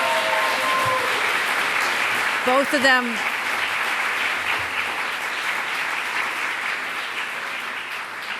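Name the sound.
audience applause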